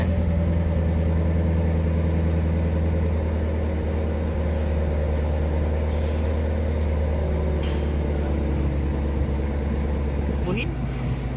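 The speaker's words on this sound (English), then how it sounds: "turo lang natin kung paano mag-start ng engine ng Corvette" A Corvette engine idles steadily at about 1,000 RPM after a push-button start, a deep, continuous rumble, close and loud throughout, with a faint voice underneath and a brief click near the end.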